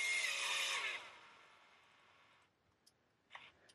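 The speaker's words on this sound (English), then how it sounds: "We only drill here." A battery-powered drill runs at high speed with a loud whine that winds down and fades over about two seconds, followed by a few faint clicks and taps.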